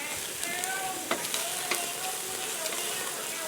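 Pork belly fries in a pan with a steady, close sizzle and crackle, broken by occasional sharp pops and spits, with no one talking.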